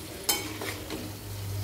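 A spoon stirs tur dal into a sizzling drumstick tempering in a pan: a sharp scrape at the start, then soft stirring strokes over a steady close frying hiss.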